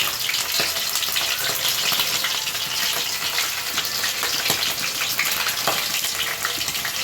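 Boiled chicken feet frying in a pan give off a loud, continuous bubbling sizzle with crackling pops, heard up close with no voices.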